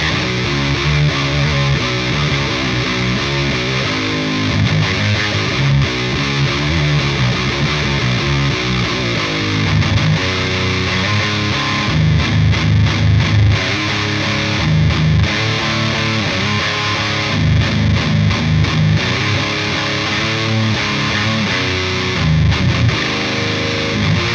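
Fuzzy, heavily distorted electric guitar through a rat-style fuzz preset on STL Tonehub, played continuously as a loud, dense riff with sustained saturated chords and brief choppy stops, no talking.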